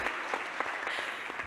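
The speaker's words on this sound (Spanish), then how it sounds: "un aplauso un poquito más fuerte para nuestros panelistas" A seated audience at a panel event applauds the panelists, a dense, steady patter of many hands clapping at moderate distance with no voices on top.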